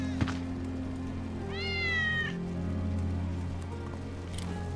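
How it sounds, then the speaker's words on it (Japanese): A cat gives a single clear, drawn-out meow in Final Fantasy VII Remake, heard up close over a low steady background hum, with a soft thump just before it. "ウェッジの猫だ。"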